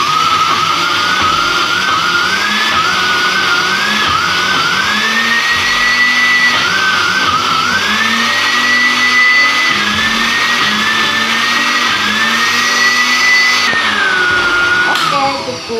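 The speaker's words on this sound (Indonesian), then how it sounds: "kemudian kita blender dulu beberapa menit kemudian" A kitchen blender runs steadily for several minutes, grinding a chicken meatball mixture with a loud, continuous whirring drone whose pitch rises and falls slightly as the load shifts, then winds down at the end.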